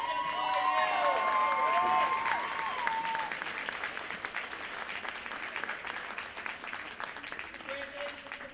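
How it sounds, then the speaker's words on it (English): A crowd applauds both teams at a university basketball game, with clapping and some cheering in a large echoing gym, strongest at the start and gradually thinning out, with voices mixed in. "I think we should have a round of applause"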